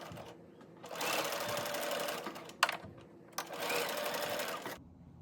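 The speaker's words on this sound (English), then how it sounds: "I'm going to go ahead and I'm going to sew down the right hand side of this block." A sewing machine stitches a seam on a quilt pinwheel block, running in two close, steady whirring bursts with a short pause and a couple of clicks between them.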